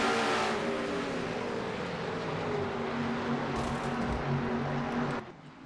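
Race cars in a sim racing game, a dense roar of several engines revving loudly through turns at once, continuous and close, cutting off abruptly near the end, with no voices.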